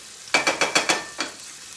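Corn fries in a pan at home, a burst of sizzling with quick rhythmic scraping strokes, five in close succession, then a pause and one more, near and fairly loud with no voices.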